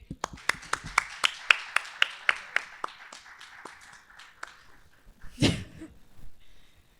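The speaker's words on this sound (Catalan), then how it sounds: "Ale, un aplaudiment." A small podcast audience claps in a few loud, evenly spaced claps that thin out and fade, followed by a brief burst of noise and quiet murmuring.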